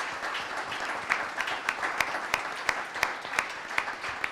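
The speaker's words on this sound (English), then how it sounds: "Please give them a round of applause." Audience applause for panelists at a mental health town hall, a moderate steady clapping from a modest crowd with a few sharper individual claps standing out, no talking.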